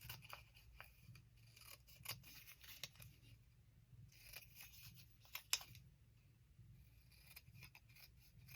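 Scissors trim a paper border at a crafting table, giving faint, close snips and clicks in short irregular bursts over a quiet background.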